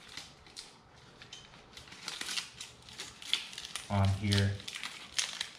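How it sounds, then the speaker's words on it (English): Tape is wrapped around a wrench on a 1983 BMW E21 320i, giving soft crinkling and a short burst of tearing and sticking sounds, close and brief, with someone speaking over it. "I take the wrench, put it on, and then I tape the wrench"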